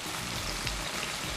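Onions, tomatoes and green chillies frying in a pan, giving a steady dense sizzle with a faint scrape of stirring and no voices.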